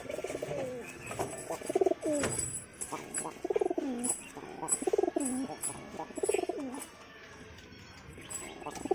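A hunting pigeon coos repeatedly in close, rhythmic bursts of low throaty calls, with faint chirps and a thin high background hiss between phrases.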